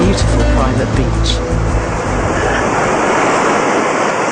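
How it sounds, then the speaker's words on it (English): Surf from waves breaking along the shoreline of a private beach in Nicaragua, a steady broadband wash that swells and recedes close by. A voice talks over the water during the first part. "you can hear these waves crashing against the shoreline"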